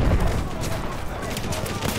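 Machine gun fire in a war video game comes as a dense, steady burst of gunfire with no clear gaps. A voice talks over it throughout.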